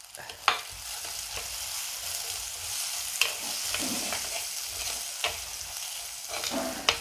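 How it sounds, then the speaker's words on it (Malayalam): Chopped shallots and a little onion sautéing in a pan for Malabar-style mackerel curry, with a continuous close sizzle broken by sharp scraping stirs every second or two. "ഇത് നന്നായിട്ടൊന്ന് വഴരട്ടെ"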